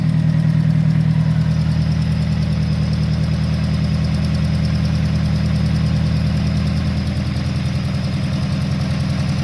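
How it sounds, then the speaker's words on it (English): A Mazda RX-7 engine idles roughly with a missing cylinder, a steady close-up chugging drone with an uneven, stumbling pulse and no voices over it. "you can clearly hear it has a missing cylinder"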